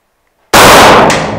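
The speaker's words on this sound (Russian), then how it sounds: "туда же произведи второй аккуратный выстрел" A single loud, sharp pistol shot cracks at shooting practice after brief silence, followed by a short decaying ring.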